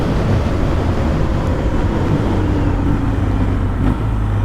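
Engine and road rumble from a BMW R12 G/S motorcycle being ridden and shifted without the quick shifter, a steady loud drone with a brief dip near the end as a gear changes.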